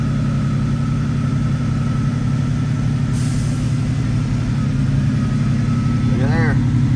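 A Mercury Comet car engine idles steadily with a deep, continuous rumble close by. A brief rising and falling whine sounds near the end.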